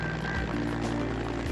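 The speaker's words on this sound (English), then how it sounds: "So they've got 8 of these Bell 214 helicopters." Bell 214 helicopter at a dam construction site, a steady loud rotor and engine drone with a low pulsing throb, heard alone.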